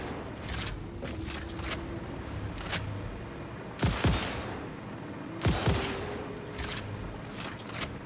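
A gun fires in Satisfactory amid a dense, noisy game soundscape, with several sharp shots standing out, two of them heavier around the middle, over continuous busy background sound.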